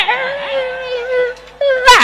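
A man vocally imitates a female dog's whimper, a drawn-out, wavering high whine held close and clear, dipping briefly near the end before a sharper yelping rise.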